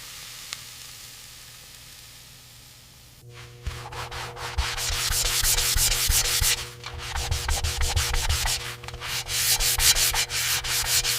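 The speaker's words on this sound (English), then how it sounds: "Simultaneously, we carefully polish the brass brackets, bringing back their original luster." Brass brackets on a 1902 Stanley Steamer are polished by hand. After a quiet start, close, gritty rubbing strokes begin and continue in repeated bursts, with a low steady hum underneath and no talking.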